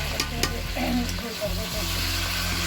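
Chicken cooks in a pan with a steady, close sizzle and a low rumble, with a few faint scraping stir sounds.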